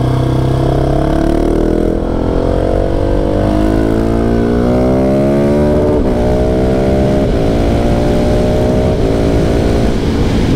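A 2020 KTM 690 SMC R supermoto revs up hard through the gears, its loud single-cylinder engine note climbing in pitch over and over. The engine is close and unbroken, and no one talks over it.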